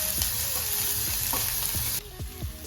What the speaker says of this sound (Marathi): कांद्याला थोडासा आपण गुलाबी कलर येऊस्तोवर भाजायचा